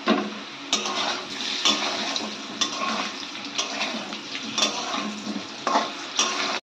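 Potato pieces fry in oil in a pan for a Bengali sukto, a steady sizzle broken by repeated clattering bursts of a spatula stirring against the pan, no voices.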